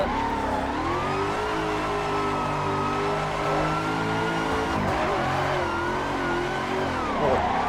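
Engine of a Toyota GT86 in the Assetto Corsa video game, drifting at Atron Circuit; a steady loud drone with rising and falling revs and a gear shift to third, continuous throughout with faint tire noise.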